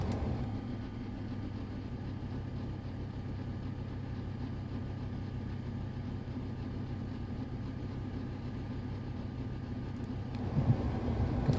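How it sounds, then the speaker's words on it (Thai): Steady low rumble inside a Ford Ranger 3.2 Wildtrak pickup cabin with 142,392 km, an engine droning beneath constant road and air noise, with a slight bump near the end. "จะได้ยินนะคะในรถมีเสียงดังนิดหน่อยนะคะ"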